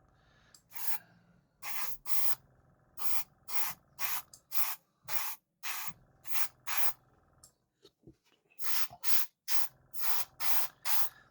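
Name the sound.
airbrush spraying red paint on a diecast car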